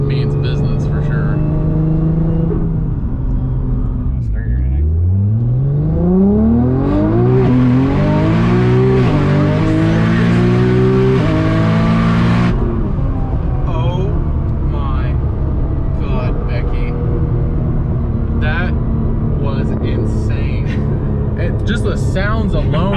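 A 900hp Cadillac CTS-V with a 2.9L Whipple supercharger roars loudly nearby, engine pitch climbing through rising sweeps with shifts between them and a burst of supercharger whine at full throttle, while excited voices talk throughout.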